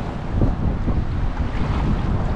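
Strong wind buffets a small boat out on the water during a fishing trip. It is a steady, rushing gust with rumbling wind noise on the microphone, heard alone.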